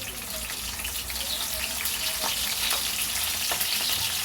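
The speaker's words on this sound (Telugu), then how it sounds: "నూనె కాగిన కంటే 1/2 స్పూన్ జీలకర్ర వేసుకుంటున్నానండి. అలాగే ఎండు రొయ్యలు కూడా వేసుకుంటున్నానండి." Cumin seeds and dried prawns sizzle steadily in hot oil, a dense, close frying hiss with a few louder crackles and pops, and no talking.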